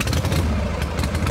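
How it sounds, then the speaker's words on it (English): An engine sound effect rumbles briefly, a rough, clattering motor drone at moderate loudness that holds steady for just over a second. "Gentlemen, start your engines."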